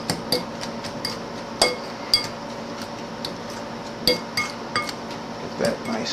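Stuffed mushroom filling being stirred in a bowl, giving light clinks and taps of a utensil against the dish at an irregular pace, up close over a quiet kitchen background.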